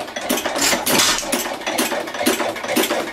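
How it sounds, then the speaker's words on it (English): An old hit-and-miss engine runs steadily close by, its loud chuffing firing beats repeating in an even rhythm with mechanical clatter between them, and no voices. "So that's the hit and miss engine."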